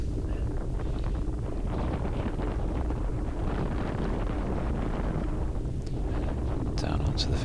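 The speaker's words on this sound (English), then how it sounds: "Into the wind tunnel again." Steady wind buffeting the microphone of a rider during a Vet40s cyclocross race at Mallory Park, a constant low roar filling the whole stretch with no pauses.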